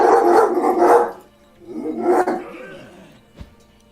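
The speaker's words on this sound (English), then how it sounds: "I can't hear you over the dog." A dog barks in loud bursts, a quick cluster near the start and another about two seconds later. The barks are close and dominate the scene, with a short sharp knock near the end.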